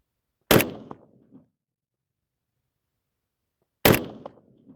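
Two single rifle shots from an AK or Mosin Nagant hunting rifle, each a loud, sharp crack with a short decaying echo, spaced about three seconds apart with silence between.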